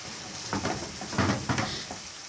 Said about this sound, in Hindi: हाई फ्लेम पे मैं इसे कुक कर रहा हूँ।